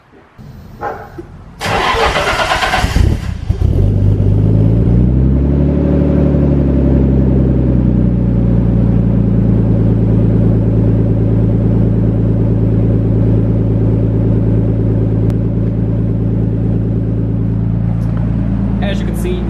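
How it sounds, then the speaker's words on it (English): A car engine cold start: cranks briefly, catches and roars up to a high rev, then settles down to a steady, fairly loud idle that holds to the end. "let's get a startup, cold startup on the way it currently sounds now"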